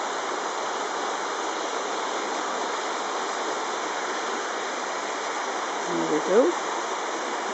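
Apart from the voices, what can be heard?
river water flowing near a waterfall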